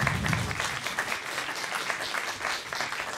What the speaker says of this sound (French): Et oui, on peut applaudir, bien sûr.